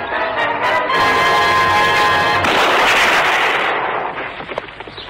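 Gunfire in a western film: loud, sharp blasts with a booming report that rings out and slowly fades, heard alone with no talk.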